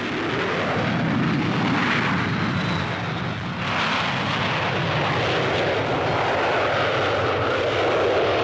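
Jet aircraft of the Royal Canadian Air Force Golden Hawks team roar through an aerial demonstration, a loud, sustained broadband rumble that stays steady for the whole stretch with no voices.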